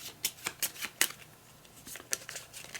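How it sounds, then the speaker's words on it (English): Playing cards are shuffled for the board game Dangent: Brass Empire, giving a quick run of sharp riffling snaps followed by a few scattered flicks, close and clear with no talk. "Finish shuffling."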